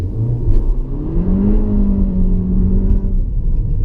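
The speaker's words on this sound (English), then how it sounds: "So give it a bit of wheel spin." A Peugeot 308 GTi 270 accelerating hard from a standstill with front wheel spin, the engine note rising steadily as the revs climb, loud from inside the cabin with a deep rumble underneath.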